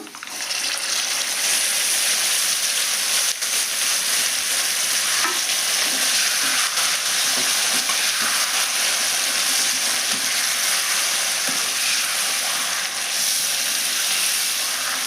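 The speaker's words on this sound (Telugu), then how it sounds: "బాగా ఎర్రగా అయింది. నేను తోటకూర వేస్తున్నాను." Amaranth leaves dropped into a hot Telugu-style tempering for a pounded chutney, giving a steady loud sizzle with stirring and spatter that carries on for the whole stretch with no talk.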